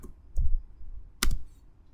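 Two quick, close keystrokes on a computer keyboard, typing a git command, each a short sharp tap separated by a pause in a quiet room.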